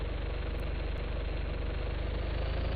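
A car engine running roughly during a road test, a steady, fast, even pulsing drone that stays close and moderately loud throughout with no voices.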